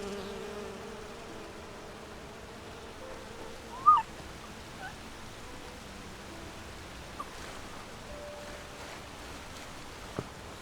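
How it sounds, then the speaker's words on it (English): Buzzing bees in the fantasy role-playing game Enderal, a Skyrim total-conversion mod, near a honey farm, a soft steady insect drone under ambient game sound with a few brief louder blips, no talking. "These bees are kind of following us around."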